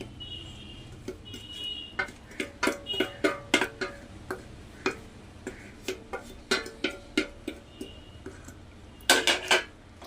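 Sugar, cardamom powder and coconut powder being mixed in a pan for coconut burfi, a run of sharp metallic spoon taps and scrapes in an irregular rhythm, close and clear with no talking.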